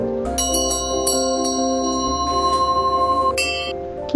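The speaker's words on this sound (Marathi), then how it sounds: "ढोलकं गडगडतो पण घंटा तर खणखणीत आहे" A hand bell rings out in a children's music lesson where it is set against a rumbling dholak, giving several bright struck strikes with long, shimmering sustained tones, close and clear with no talking.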